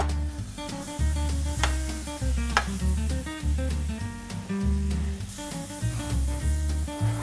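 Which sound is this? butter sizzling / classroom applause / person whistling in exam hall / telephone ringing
butter sizzling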